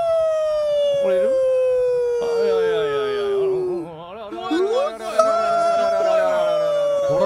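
A person imitates a police siren with their voice during a GTA roleplay, a loud, close, wavering wail that rises and falls steadily over several seconds.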